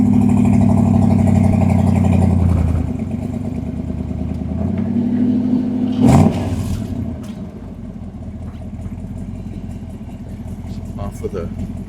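A cold 1968 Chevrolet Camaro engine runs steady and strong, then shifts in pitch as it is taken up through the manual gears, a loud continuous mechanical drone recorded close by.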